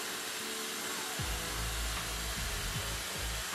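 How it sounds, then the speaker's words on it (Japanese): Dyson hair dryer fitted with its low-temperature attachment blowing on hair, a steady loud rushing whoosh throughout, with a few brief low thumps as the nozzle shifts. "ダイソンのドライヤーは風量が強くてすぐ乾くのでね、好きです。"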